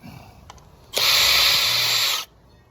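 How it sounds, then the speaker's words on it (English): A power drill with a self-centering bit bores hinge holes for a gate: a few soft clicks, then one loud, close, continuous high whir lasting over a second before it cuts off. "And then I go in with a self-centering bit"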